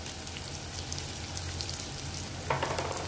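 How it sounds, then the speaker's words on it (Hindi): Chopped onion and green chilies frying in hot oil in a pan while samosa filling is made, a steady close hiss and crackle like light rain with a brief louder spatter near the end, no voices. "अब इसमें हम डाल देंगे थोड़ा सा प्याज जो हमने रखा था आपके, और ये थोड़ी सी हरी मिर्ची"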